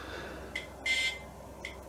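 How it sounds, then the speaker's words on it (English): Gotek floppy drive emulator buzzer sounding on an Amiga reboot: a few short, faint electronic beeps, the middle one longest, over a quiet background hum. "I've enabled the buzzer."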